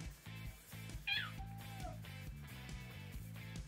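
A pet cat gives a single drawn-out meow that rises and then falls, heard over steady rhythmic background music at a fairly low level.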